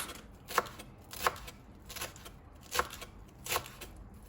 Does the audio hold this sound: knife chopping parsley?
yes